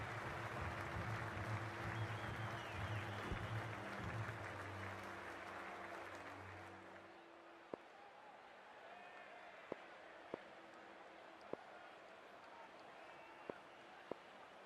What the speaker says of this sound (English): The crowd's built up nicely and is already making plenty of noise.